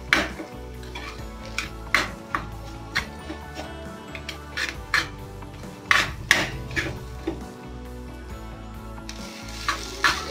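A spoon scrapes and clanks against a pan as spiced potato filling for masala dosa is stirred and roasted, with repeated sharp metallic knocks over a soft sizzle.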